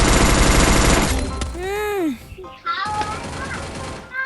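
Rapid bursts of gunfire in the game Free Fire crackle at the start, followed by whooshing electronic effects and chirpy tones, with excited voices talking.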